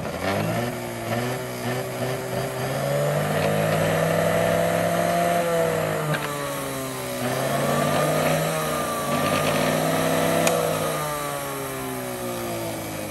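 A National fruit juicer runs steadily and close up, its motor whirring in a continuous hum with slight pitch drifts and no talking.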